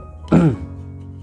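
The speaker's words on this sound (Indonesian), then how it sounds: "kalau habis minum ini suka dehem" One short, throaty clearing of the throat after drinking, close and fairly loud, followed by quiet.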